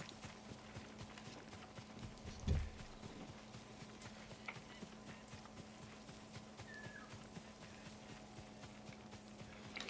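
Horse galloping in Ghost of Tsushima, a faint steady clip-clop of hooves running under a soft ambient game background, with one louder thump early on.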